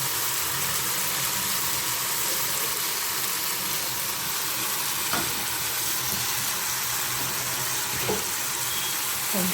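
Tamarind soaking water poured into a pot of softened tomatoes for a quick tomato saaru, a continuous watery rush and sizzle at moderate level with occasional soft knocks and no talking.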